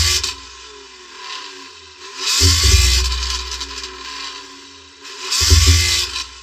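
Two strong engine surges from a car with an aftermarket exhaust accelerating in a drag race, each a loud low roar that rises and then fades, separated by quieter ambient noise.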